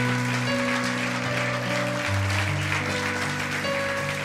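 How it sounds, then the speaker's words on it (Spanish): A church congregation at a Sunday morning service gives the Lord a strong round of applause, a steady wash of clapping over sustained keyboard chords. "Déla a Él en esta mañana un fuerte aplauso al Señor."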